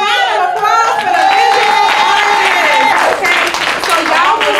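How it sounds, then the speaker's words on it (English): A crowd claps and cheers at a steady level, the applause continuous and fairly loud throughout, with a hint of voices mixed in. "can we just give a round of applause for the"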